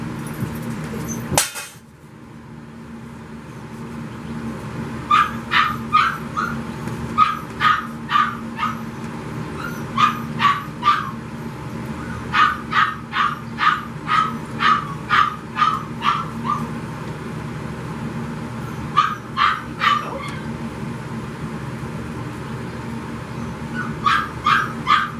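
A dog gives a long run of short, high barks and yips mixed with whimpers, coming in quick bursts and clusters over a low steady background hum, after one sharp knock near the start.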